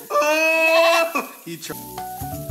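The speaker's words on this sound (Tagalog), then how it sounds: "Ari po ay kambing ko talaga rin mga kalawit" A goat bleats loudly and close by, a long wavering cry followed by shorter calls, with some speech and rustling in the background.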